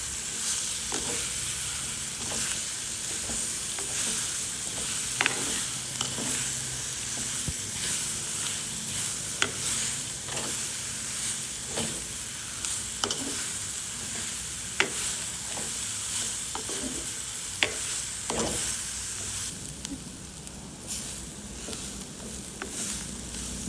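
Onions being stirred into fried anchovies in a pan, a steady loud sizzle with repeated scraping stir clicks throughout, no talking.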